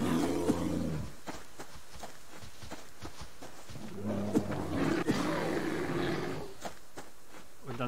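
A bear roars in the Subsistence survival game, with several loud, drawn-out growling roars spread across the span. Softer rumbling sits between the louder calls.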